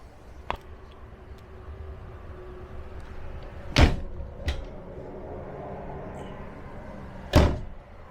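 A few sharp knocks of cabinet doors opening and closing in a 2022 Avenger LT 16RD travel trailer, spaced apart, with a quiet room hum in between.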